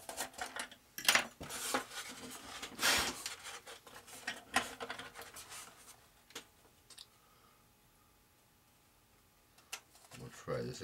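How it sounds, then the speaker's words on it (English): Cutting a hole in a part of a GWS Formosa RC plane during its build, heard as close, irregular clicks, snips and scrapes for several seconds, then a quiet gap before another short burst. "I'm going to cut a little more out of here."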